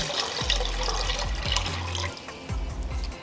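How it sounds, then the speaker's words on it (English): Two cups of water poured into a large pan for honey-sweetened marshmallows, a splashing, gurgling stream with rising glugs, close and fairly loud, tapering off near the end. "So now I have my 2 cups of water. We're just gonna pour that in."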